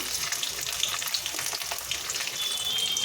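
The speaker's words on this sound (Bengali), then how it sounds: "এবার এগুলো একটু নেড়ে চেড়ে ভেজে নিচ্ছি এবার দিয়ে দিচ্ছি কয়েক কোয়া রসুন" Dried red chillies, nigella seeds and garlic fry in hot oil with a dense, even crackling sizzle, close and moderately loud, with no voices.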